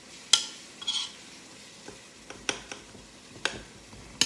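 Ground beef sizzles faintly in a pot while a utensil chops it up, giving scattered sharp taps and scrapes against the pot at irregular intervals, close and fairly quiet, with no voices.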